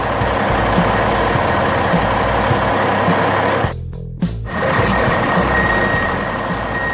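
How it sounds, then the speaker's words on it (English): An orange truck loaded with stone rumbles off in an animated city street, a loud steady engine drone with a brief cut to near silence midway before the engine noise resumes. "that orange truck is ready to roll out and deliver its cargo"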